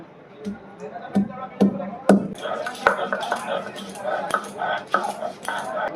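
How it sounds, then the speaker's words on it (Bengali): Ginger being ground on a traditional grinding stone, with sharp repeated knocks and scraping strokes of the stone roller, fairly close and moderately loud, and a kitchen ambience continuing throughout. "জিরেটা বাটা হয়ে গেছে, এবার আদা বেটে নেব"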